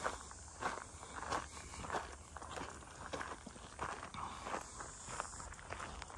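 Steady walking footsteps crunch along a Blue Mountains hiking trail, a regular stride of close, moderately loud steps over faint outdoor background noise.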